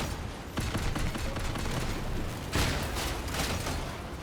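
Weapons fire in the Crossout vehicle combat game as rapid bursts of shots, the first starting about half a second in and a sharper burst near the middle, dense and loud with no talking.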